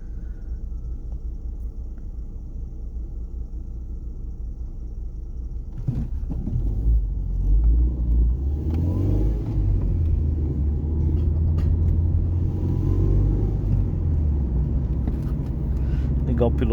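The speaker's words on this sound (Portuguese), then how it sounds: "Aquela marcha lenta perfeita no carburador, né? Então aqui, marcha lenta," A carbureted Ford Focus engine running at a low, steady rumble, growing heavier partway through and settling into an even idle, with no talk over it.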